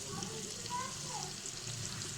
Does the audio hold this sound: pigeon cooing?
no